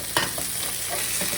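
Cheeseburger patties hiss and sizzle steadily on a hot griddle, with a brief scrape and clatter near the start as they are flipped, the frying noise continuing close and even throughout.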